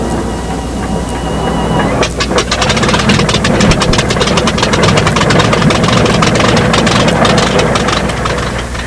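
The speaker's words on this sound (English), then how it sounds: "Now, listen to an Unlimited engine start." An Unlimited class racing plane's large piston engine cranks, then catches and settles into a loud, rough, rapid chugging idle, close and continuous.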